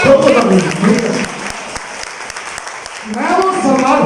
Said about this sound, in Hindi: ताली पहले ठोक दो।